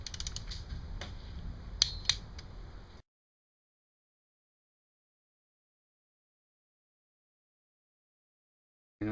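Torque wrench tightening Loctited clutch cover bolts on a 1985 Kawasaki VN750 engine during a rebuild, a few sharp ratcheting clicks and a mechanical creak over faint handling noise, then silence.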